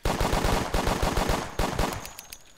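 Rapid bursts of automatic gunfire from the indie action video game Red Hot Vengeance, loud and close, with dense repeated shots that stop near the end as a faint metallic clink rings out.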